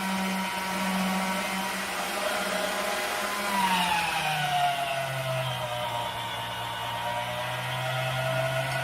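An electric pasta machine rolls homemade pasta dough, a motor whine that drops in pitch midway as the load changes, then settles into a steady, moderately quiet hum.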